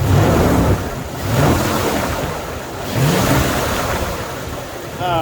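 A 1994 Dodge Dakota's engine, worked by hand at the throttle under the hood, swells in repeated revs from a rough idle, each blip rising and falling close by.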